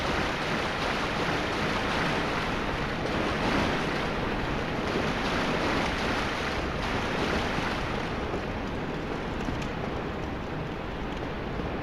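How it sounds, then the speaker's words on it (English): Steady rushing water in Dark Souls: Remastered, a constant broadband roar that holds at the same level throughout with no breaks or talk. "Where's that water coming out?"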